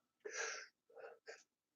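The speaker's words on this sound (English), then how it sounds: "I got to sneeze now too" One person sneezes nearby, a long breathy burst followed by two shorter sneezy gasps, all in near silence.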